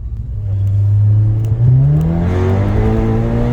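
A tuned Skoda Superb accelerates hard, its engine note climbing steadily in pitch as it revs up. The roar is loud, close and continuous throughout.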